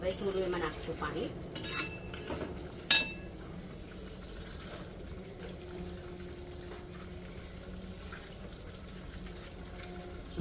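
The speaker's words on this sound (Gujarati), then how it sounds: "હવે થોડું એમાં નાખશું પાણી." Water poured into a pan of dum aloo curry with garam masala, then stirred with a metal spoon that clinks and scrapes against the pot. One sharp clink stands out, followed by a quieter simmering background.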